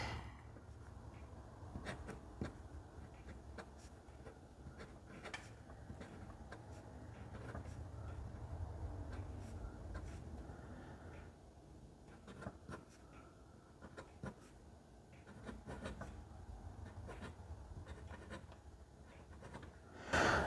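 A knurled brass pocket fountain pen writes on paper, giving quiet, close scratching strokes in short bursts with small pauses and light handling knocks in between.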